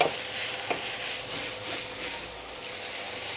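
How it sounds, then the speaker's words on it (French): Onions sizzling and being stirred in a pan for a grilled cheese, a steady soft frying hiss with occasional scraping strokes of a utensil, close and fairly quiet, no talk. "Des fois ça recommence à griller, mais juste en mélangeant les oignons, on arrive à décoller les sucres"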